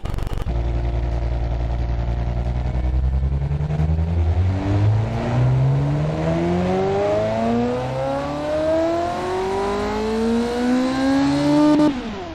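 A flat-plane crank engine in the Automation car game revs steadily upward across several gear-like sweeps, a loud, smooth, high-pitched racing howl that climbs continuously and cuts off abruptly at the end.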